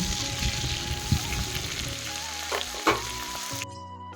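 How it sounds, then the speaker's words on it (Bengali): Prawns frying in hot oil in a wok, a loud close crackling sizzle with a couple of sharp pops and clatters from stirring, then cutting off abruptly near the end, with no voices. "আমি মাছগুলোকে ভালোভাবে ভেজে নেব"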